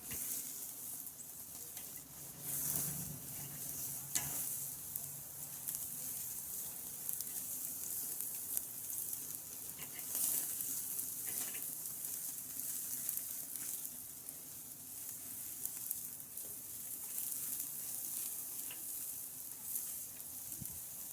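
Steaks on a grill searing near the end of cooking, giving a steady soft sizzle and hiss with occasional pops and crackles, faint and continuous, with no talking.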